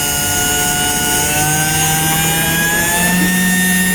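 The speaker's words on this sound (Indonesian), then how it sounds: "Akibatnya motor akan berputar pada kecepatan tertentu tergantung pada duty cycle-nya." A small DC motor driven by a MOSFET under PWM speed control spins steadily, giving a loud, continuous electric whine with sustained tones that shift slightly in pitch as the speed changes, and no voices.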